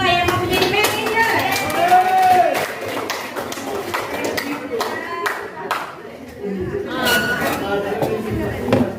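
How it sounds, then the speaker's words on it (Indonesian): Audience clapping at a school gathering at SMK Negeri 3 Batam, a burst of group applause mixed with children's chatter and voices, continuing in waves through the clip. "Tepuk tangan untuk kita semua yang mau menjadi manajer."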